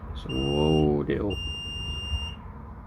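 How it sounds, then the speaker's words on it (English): A soldering iron, in use during restoration work on a rusty Volvo 240, gives off high, steady electronic beeps that sound in two stretches, with a voice humming and talking over the first part. "My soldering iron beeping for some reason."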